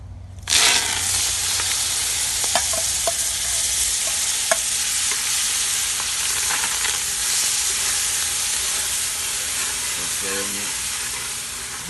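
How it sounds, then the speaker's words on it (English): Vegetables frying in a hot pot for a Jamaican curry while being stirred, a loud continuous sizzle with occasional scrapes and clinks, close and steady throughout. "Throw the veggies in and have them fried on and blacking up."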